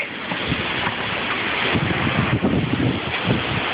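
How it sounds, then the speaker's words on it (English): Strong storm wind roaring through a backyard willow tree, a loud, continuous broadband rush with gusty swells and heavy buffeting on the microphone. "This is a tree in the backyard. A willow tree. That's how strong the wind is."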